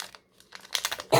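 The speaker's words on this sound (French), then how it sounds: "Premier booster que j'arrive à ouvrir" Foil wrapper of a Pokémon card booster pack being torn open, a few short crinkly rustles and crackles coming in quick bursts, close and fairly quiet.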